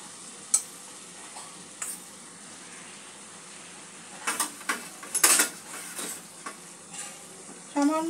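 Curry masala with yogurt and green chillies cooking in a pan for egg curry, a quiet sizzle broken by scattered spatula scrapes and pan clinks, growing busier midway, with no talk.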